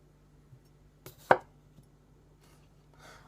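A Takamura Chromax santoku knife slicing through a large potato, one sharp, loud chop near the middle among a few softer knife taps in a quiet kitchen.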